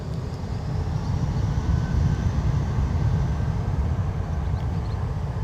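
Airliner departing Newcastle Airport, a steady broad jet roar from a distance that holds level throughout with no talk over it.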